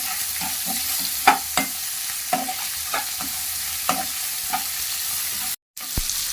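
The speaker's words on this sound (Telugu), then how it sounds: "ఆనియన్స్ ఫ్రై చేస్తుండగా దాంట్లోకి కొద్దిగా ఉప్పు వేస్తే త్వరగా ఆనియన్స్ మగ్గుతాయి" Onions fry with salt in a pan, sizzling steadily up close while a spoon scrapes and taps the pan at intervals. The sound drops out briefly near the end.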